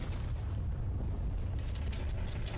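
A megaship explodes in the space strategy game Hyperspace Deck Command: a sustained, rumbling low boom with crackling debris that roars steadily throughout, loud and without speech.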